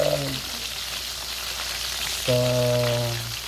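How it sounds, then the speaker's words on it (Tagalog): Stingray sizzles steadily in hot oil, a continuous close frying hiss, with a couple of brief tonal musical notes over it. "Pero ito paiba tayo ng recipe. Prito na lipot."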